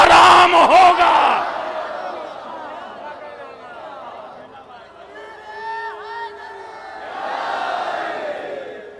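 A crowd at a religious majlis gathering roars a slogan in unison, a loud burst of many voices that fades into scattered chatter and raised calls, followed by a further swell of voices near the end.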